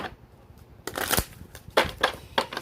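Tarot cards being shuffled in quick, crisp bursts of riffling, close and fairly quiet, with short pauses between.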